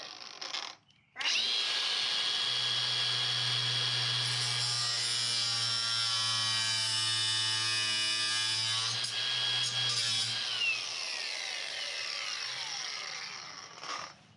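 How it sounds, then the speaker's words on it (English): A power tool grinds through a bolt on a horse trailer, a loud sustained whining cut with a droning low hum that shifts in pitch as the blade bites, after a brief start-up dip, continuing steadily with no talk. "I've got one last bolt to cut"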